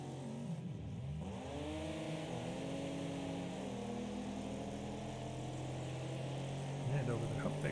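Race cars roaring through a Trans-Am Series event at Firerock in the racing game Wreckfest, engines droning and shifting pitch steadily as they run down the main straight, with a commentator talking over the continuous motor noise throughout.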